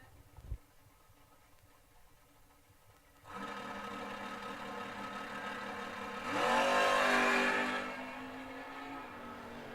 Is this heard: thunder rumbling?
no